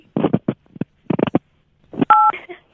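A single telephone keypad tone beeps once, a short steady dual-pitch note, heard right after a recorded voice speaks in Hindi over a phone line.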